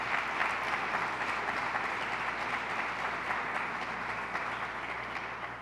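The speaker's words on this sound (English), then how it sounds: "Give her a round of applause." An audience at a public safety briefing with New York's governor breaks into sustained, dense applause, a steady wash of clapping with no voices over it.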